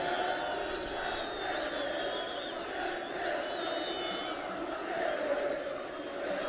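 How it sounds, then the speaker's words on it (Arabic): A dense crowd of young people surrounds Muammar Gaddafi, their shouting and chanting blending into a steady, excited roar that holds throughout. "معمر قذافي وسط الجماهير، وسط الشباب."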